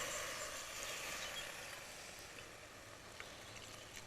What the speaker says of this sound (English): now all I need to do is add the water. Fine sizzling sound